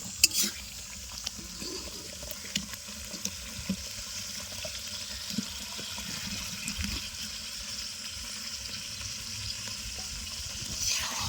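Fried cauliflower and potato pieces are stirred into sizzling masala in an outdoor riverside pan, with a continuous close frying hiss and occasional soft clinks and scrapes of the spatula.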